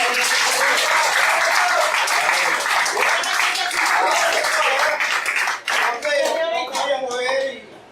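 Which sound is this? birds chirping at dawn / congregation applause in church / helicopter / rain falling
congregation applause in church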